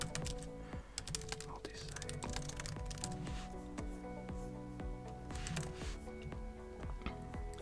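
Rapid keystrokes on a computer keyboard while copying a comment during WordPress plugin setup, a steady close clatter of clicks with brief pauses.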